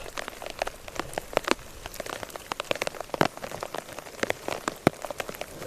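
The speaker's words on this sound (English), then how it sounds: "here comes some more rain" Rain spatters steadily at an outdoor dinosaur excavation site. Scattered sharp drops tap on nearby surfaces over a soft, constant patter, with no talking.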